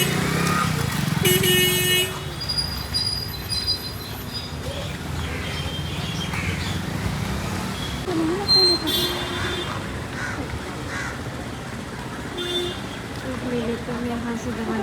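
Heavy road traffic in a long queue, with motorcycle and car engines idling and revving, scattered horn honks and faint birds, a steady close din throughout.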